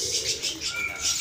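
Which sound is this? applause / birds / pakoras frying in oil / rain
birds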